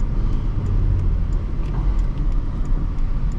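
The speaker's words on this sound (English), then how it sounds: "This is such a quick car. It just accelerates with ease." A 2006 Honda Accord SE with a five-speed manual accelerates, its engine a steady low drone under road and cabin rumble, heard from inside the car with no talking.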